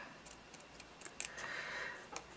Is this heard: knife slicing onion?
no